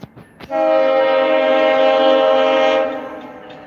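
A train passes close by and sounds a long, loud, steady horn lasting a couple of seconds before fading, with faint clicks beforehand and no talking.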